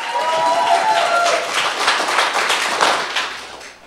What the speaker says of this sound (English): Y'all please give our youth a round of applause.